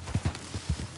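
A ridden horse in a video game sounds a short burst of about five close, thudding hoof clops in an uneven galloping rhythm.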